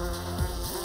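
Close, steady insect buzzing of a bee, a continuous droning hum over a short moment with no speech.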